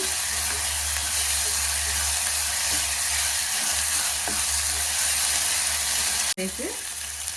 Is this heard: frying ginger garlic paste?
yes